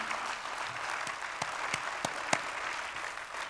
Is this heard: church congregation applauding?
yes